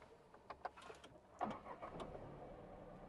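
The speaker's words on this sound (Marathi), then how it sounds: "गाडी स्टार्ट करतो मी." A Tata Tigor 2025 CNG sedan is started from inside the cabin, a few quiet clicks followed by the brief whir of the engine catching, then settling into a faint, low idle.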